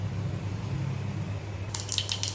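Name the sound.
mustard seeds spluttering in hot oil for rasam tempering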